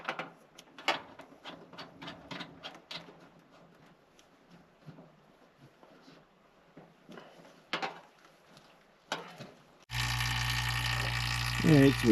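A vacuum pump pulls a vacuum during a small shed-to-house conversion. Scattered clicks and handling knocks come first, then a loud, steady motor drone starts abruptly near the end and holds.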